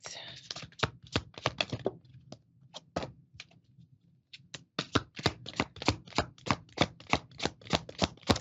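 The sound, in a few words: shuffling cards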